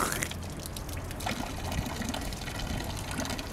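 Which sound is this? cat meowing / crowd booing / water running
water running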